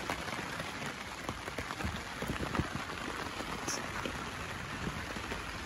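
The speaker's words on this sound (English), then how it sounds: "just thought we'd film a little bit of the rain for you." Steady rain pattering on surfaces, with scattered individual drops standing out, fairly quiet and continuous throughout.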